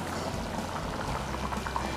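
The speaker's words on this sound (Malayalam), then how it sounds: "ഇപ്പം നന്നായി തിളച്ച് വരുന്നുണ്ട്." Kerala-style chicken stew bubbling steadily in a pot, a continuous close simmering gurgle with soft popping bubbles throughout and no voices.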